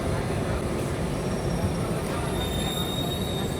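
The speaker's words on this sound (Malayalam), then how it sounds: "കണ്ടോ, ഈ ട്രെയിനിലാണ് ഞങ്ങൾ ട്രാവൽ ചെയ്യുന്നത്." Bernina Express train rolling through the Alps, heard from on board: a steady low rumble of wheels on track with thin high squeals from the rails running through it at a constant level.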